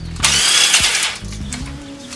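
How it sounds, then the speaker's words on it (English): Small handheld impact gun spinning off car strut nuts during a strut assembly removal, a loud close rattling burst of hammering whir that winds down and tails off. "I'm going to use my little impact gun."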